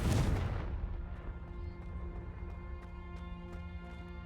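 A Confringo spell explosion in the video game Hogwarts Legacy: one loud booming blast at the start, decaying into a ringing tail with faint crackles.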